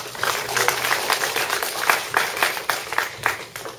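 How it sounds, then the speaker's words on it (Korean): Audience at an Anseong mayoral candidates' agricultural policy debate applauding the candidates, a sustained, moderately loud round of many hands clapping in an indoor hall, tapering slightly toward the end. "우리 후보님들 다시 한번 경의의 박수 보내주시기 바랍니다."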